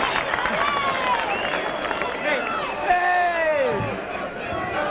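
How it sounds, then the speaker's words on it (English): Crowd at the 1980 WAFL grand final between South Fremantle and Swan Districts roars in a sustained, loud burst of cheering as the pennant is unfurled, with commentary voices talking over it throughout. "Renewed burst of cheering."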